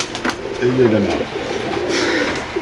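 A pair of Beauty pigeons coos briefly nearby, a low warbling phrase or two, with a voice talking over them.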